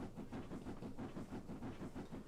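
A steam train running on the West Somerset Railway in a video game, heard as a steady rhythmic chuffing and rumbling roll with a regular beat, moderately loud and unbroken throughout.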